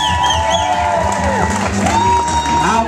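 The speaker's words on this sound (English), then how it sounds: "One more time, continue your applause for the parents of the groom." Wedding guests at a restaurant reception in Marshfield, Massachusetts, clap, cheer and whoop for the groom's parents, a loud, lively crowd roar with shouts and high voices rising above the applause.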